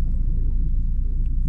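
Brief, constant low rumble of congested vehicles crawling along the Skyway elevated expressway near Makati, a close, even engine and road drone with nothing else standing out.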